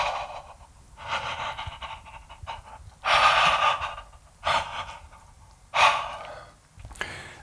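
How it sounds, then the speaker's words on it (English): Deep breaths drawn through an open mouth, five or six loud, close inhales and exhales spaced a second or so apart, heard alone. "you're going to open your mouth, imagining you have that orange in the back of your mouth again, and breathe super deep."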